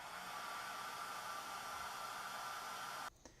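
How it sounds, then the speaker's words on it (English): Hair dryer blowing steadily on a wine-stained cushion, a loud, even airy roar that holds for about three seconds and then cuts off abruptly, leaving a faint click. "Now I'm going to speed dry this with a hair dryer."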